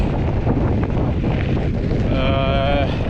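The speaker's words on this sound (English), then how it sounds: "I definitely have like a headwind this entire way going back" Strong headwind buffeting a cyclist riding back on a solo bikepacking overnighter in New Mexico, a loud continuous roar of wind across the microphone throughout, with a faint tonal whistle near the end.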